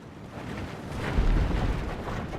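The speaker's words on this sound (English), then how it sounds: "Our artillery are targeting the walls at this point." Artillery batteries in Medieval II: Total War bombard castle walls with a deep, rumbling low boom that swells midway and lingers as a broad, noisy roar, with no talk over it.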